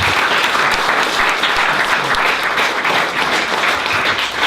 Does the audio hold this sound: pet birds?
no